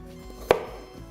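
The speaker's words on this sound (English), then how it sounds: "You love the chopping sound?" A single sharp knife chop lands on meat on a kitchen cutting board, close and crisp against a quiet room hum.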